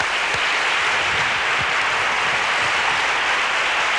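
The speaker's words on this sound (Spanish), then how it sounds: "Este aplauso es el suyo." Loud, dense applause from a television studio audience greeting a guest on a 1990 copla music show, an unbroken wash of clapping sustained for four seconds.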